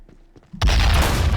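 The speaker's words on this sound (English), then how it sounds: "I heard a mortar." A mortar shell explodes in the Men of War Assault Squad war game during a downtown battle, a sudden loud boom that bursts in and roars on with sustained heavy rumble after a few quiet moments.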